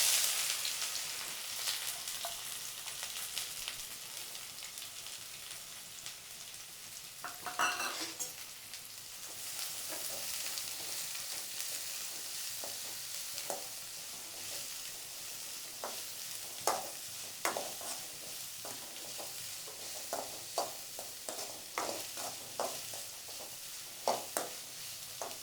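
Mustard seeds popping and onions frying in hot oil for a goat blood fry, a steady sizzle with scattered crackles and sharp spatters throughout, no voices.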